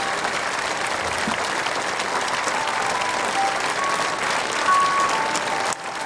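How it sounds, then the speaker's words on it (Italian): A long, unbroken ovation from the crowd gathered for cyclist Felice Gimondi's funeral, thick and even clapping that holds steady throughout, briefly louder near the end before dipping, with no one speaking. "Un lunghissimo applauso."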